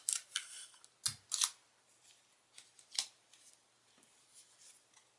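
Adhesive tape is pulled and pressed onto a paper greeting card during card-making, giving a few quiet, close crinkles and sharp short rips spread over a few seconds.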